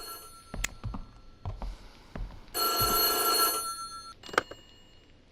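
A telephone bell rings in the horror video game White Day, one loud metallic burst of about a second amid scattered footsteps and thuds, followed by another sharp knock.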